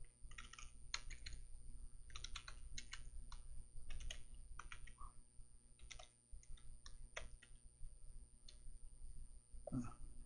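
Someone types HTML code on a computer keyboard in quick, irregular bursts of close, crisp key clicks, with short pauses between runs and no talking.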